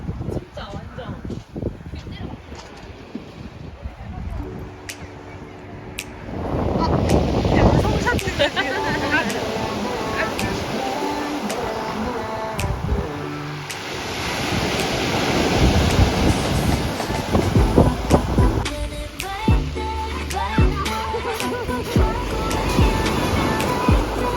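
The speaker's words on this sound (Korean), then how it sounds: "파도 소리 너무 좋아." Ocean surf on a summer beach, a continuous wash of breaking waves and wind rumble that swells louder midway, with people chatting casually over it throughout.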